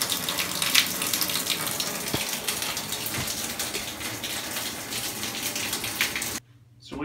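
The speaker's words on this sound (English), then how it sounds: "So we've ran the water, hot water, through here for a couple minutes" Hot water runs steadily through a newly installed shower filter, a continuous close splashing rush that lasts several seconds before cutting off abruptly near the end.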